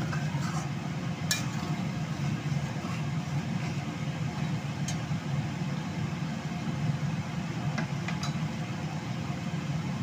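Mutton masala being stir-fried in a pan until dry: a steady, moderate scraping and sizzling bed with a few faint spoon clinks against the pan, continuous throughout and close by.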